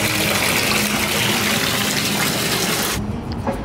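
Water gushes loudly and steadily into a hotel bathtub, ready for a coconut and vanilla bath bomb, then cuts off abruptly near the end, leaving a quieter hollow room tone.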